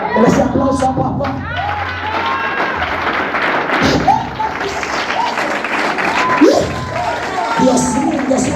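A church congregation applauds and cheers, dense clapping mixed with shouts and thumps over continuous crowd noise and a speaking voice, loud and sustained throughout.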